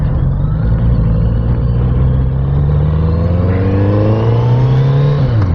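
A Kawasaki Z900 RS Cafe motorcycle engine accelerating on a road ride, a loud, close, continuous drone whose pitch climbs steadily through the gears, with a brief drop near the end.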